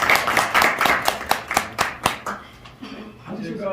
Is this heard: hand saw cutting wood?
no